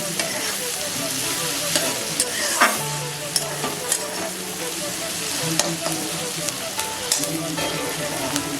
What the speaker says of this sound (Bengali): সামান্য একটু ভাজা হবে, বেশি ভাজবো না, তো বেশি লালও করবো না।